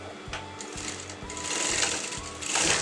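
A sewing machine stitches canvas lining into fabric for a Patiala salwar, a steady close rhythmic clatter of the needle running continuously with a slight rise in speed toward the end.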